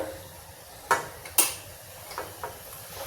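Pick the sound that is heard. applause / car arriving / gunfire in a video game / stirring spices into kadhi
stirring spices into kadhi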